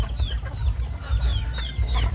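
Chickens clucking on a farm in Thailand, several short, repeated calls close by over a low background rumble, with no talk.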